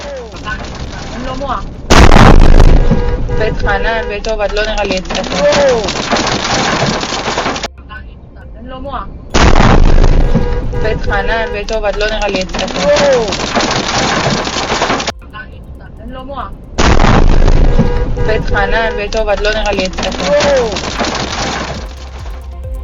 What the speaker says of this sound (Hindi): दक्षिणी इजराइल के अशदूद में पावर स्टेशन के पास ईरान की मिसाइल गिरी